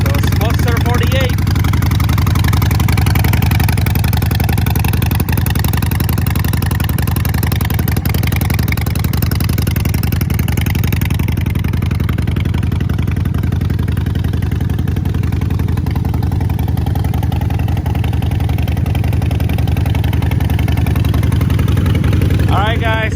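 A Harley-Davidson Sportster 48 with a Vance & Hines exhaust idles after a cold start on a winter day, a loud, steady, close low rumble that holds unbroken throughout.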